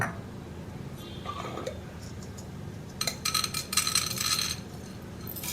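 Urad dal hits hot oil in a pan where mustard seeds are already tempering, giving brief crackles and then a denser burst of sizzling spatter that grows louder toward the end, with no talk.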